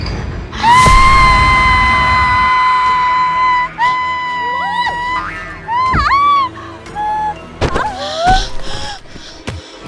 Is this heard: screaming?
yes